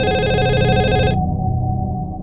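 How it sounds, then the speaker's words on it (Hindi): An office telephone rings with a repeating electronic trill that stops abruptly partway through, leaving a low background hum; loud and close, no speech. "और ये फोन कब से बज रहा है?"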